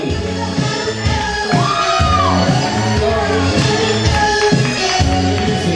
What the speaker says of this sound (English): let's give them a big round of applause, y'all